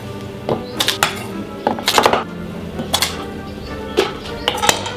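Knife chopping yellow Nantes carrots roughly on a cutting board in a kitchen, heard as irregular bursts of sharp close taps and clatters, several quick chops in clusters with brief pauses between.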